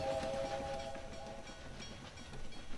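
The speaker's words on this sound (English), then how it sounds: "there's our conductor, or not conductor, but the train engineer chugging along" A slow video game train in Australia, flying Aussie flags, chugs along with a rolling rumble and a short tonal whistle-like note near the start, steady and quiet with no talk.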